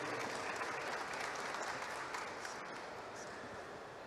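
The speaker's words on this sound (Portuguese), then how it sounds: "Palmas para ele, pessoal." An audience at a cybersecurity panel on connected vehicle fleets applauds a speaker with a steady, even wash of clapping that stays fairly faint and unbroken.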